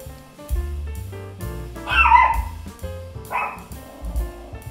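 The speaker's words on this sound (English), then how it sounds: "The dog's getting excited." An excited dog barks, yips and whimpers in short bursts at close range in a home kitchen, with a low background hum beneath.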